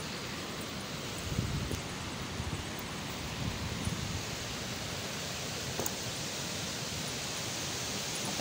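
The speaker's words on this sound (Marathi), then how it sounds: "आवाज तरी यायला लागलेलाच आहे बघा तुम्हाला धबधब्याचा, पाण्याचा" A waterfall at Siddhewadi dam in Sangli sounds as a steady, broad rushing roar, constant and fairly distant, with faint wind buffeting and rustle but no voices.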